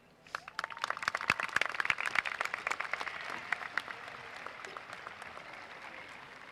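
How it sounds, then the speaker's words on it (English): An audience applauds at a high school graduation ceremony, the clapping building quickly to a dense burst, then thinning into scattered claps that taper off. "Let's give them one more round of applause."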